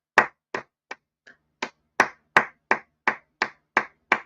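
One person claps by hand, about a dozen sharp, close claps in a loose, uneven rhythm with short pauses between them, and no other sound in the gaps.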